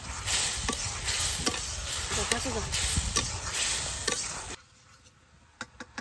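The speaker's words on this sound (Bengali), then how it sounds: "মশলাটারে ভালোভাবে কষে নিই" A spice paste of coriander powder, salt, ground cumin and ginger paste sizzles and is scraped around a pan, a loud continuous hiss with stirring scrapes that cuts off abruptly, followed by a few quiet clinks.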